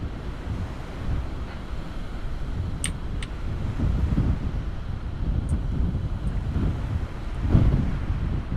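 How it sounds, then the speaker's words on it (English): Steady wind roars across the microphone over rolling sea waves on the rocky Shetland Isles coast in Microsoft Flight Simulator 2020, with a few faint high clinks scattered through and no voices. "I think that's the wind as well as the sea."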